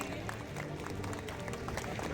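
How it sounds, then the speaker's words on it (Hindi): Crowd applause welcoming a guest at a Makar Sankranti inauguration event in Khatima: dense, scattered clapping that stays fairly distant and soft, with a murmur of voices underneath. "तालियों से इनका स्वागत करिए"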